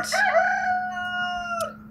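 Backyard rooster at an off-grid homestead garden letting out a single loud, close crow that rises and holds before cutting off.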